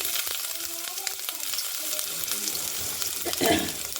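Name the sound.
ginger and dried chilies frying in a pan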